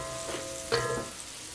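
Red onion sautéing in a hot pan as the base for a tripe stew, a soft steady sizzle with a brief utensil clink and stir midway, close and fairly quiet.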